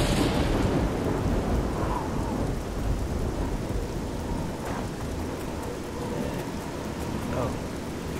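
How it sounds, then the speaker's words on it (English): A thunderstorm in the video game Oblivion: heavy rain hisses steadily over everything while low rolling thunder rumbles underneath, with a few sharper rumbles rising out of the downpour; the storm continues without a break and no one speaks. "in a thunderstorm"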